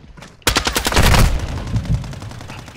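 Shotgun fire in Call of Duty: Modern Warfare 2, with a loud close blast followed by a rapid burst of shots that trails into a ringing rumble, with no talk.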